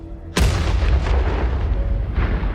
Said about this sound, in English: there's another explosion, just as loud and threatening as the first